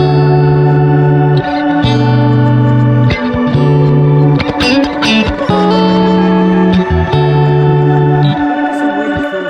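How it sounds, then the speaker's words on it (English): Dry electric guitar with a shimmering, glitchy crystallizer effect, sustained chords shifting in steady repeating phrases, loud and up front with no other sounds. "if I turn the reverb and delay off, so it's completely dry, and then put that crystallizer on"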